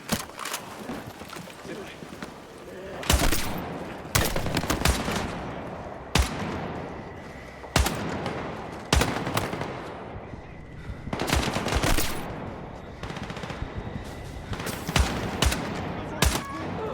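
Repeated bursts of gunfire from the video game Battlefield 6, loud sharp volleys recurring every second or two across the stretch, with a voice speaking between and under the shots.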